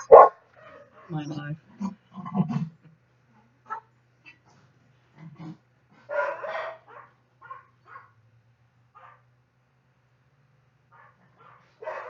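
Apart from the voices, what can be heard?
dogs barking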